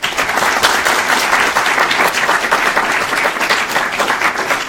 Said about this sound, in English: And so I think we give Aaron a big round of applause.